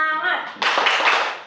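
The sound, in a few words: children doing a rhythmic spirit clap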